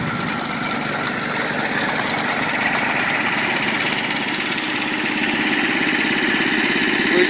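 A small go-kart engine on a kart with skis for snow runs steadily at idle, a close, rattly, continuous putter with no voices.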